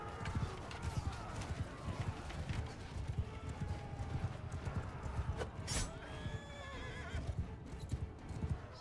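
Horses gallop in a cavalry battle in the video game Mount & Blade II: Bannerlord, with rapid overlapping hoofbeats, occasional neighs and battle clatter, and someone talks intermittently over them.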